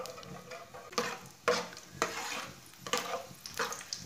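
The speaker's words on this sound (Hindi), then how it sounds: "इसे आधा मिनट तक पकने देंगे।" Whole cumin seeds and dried coriander frying in half a cup of hot oil, a steady close sizzle broken by a few louder stirring scrapes of a spoon in the pan, with no voices.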